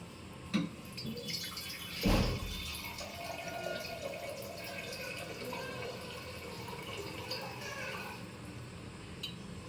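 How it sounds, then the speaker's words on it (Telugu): Water poured from a large lota into a pressure cooker holding country chicken for curry, a splashing pour with a couple of clanks, running steadily over several seconds close by. "దీంట్లో వాటర్ వేసుకోవాలండి నేను పెద్ద లోటాతోటి పోస్తున్నానండి"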